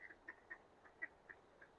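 Ducks by a river give a rapid series of about ten soft, nasal quacks in quick succession, faint and a little distant, ending with a sharper louder call.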